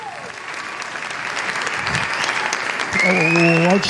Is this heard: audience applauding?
yes